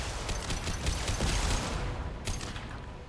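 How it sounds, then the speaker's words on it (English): Rapid volley of impact gun shots fired in Mass Effect 2 Legendary Edition on Insanity difficulty, dense overlapping bursts of broadband gunfire and mechanical clatter, loud and continuous with no speech. "Firing an impact gun."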